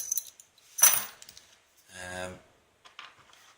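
Keys for an Abus Titalium padlock jingle and clink as they are handled close by, a bright metallic rattle burst, with speech briefly heard between the sounds.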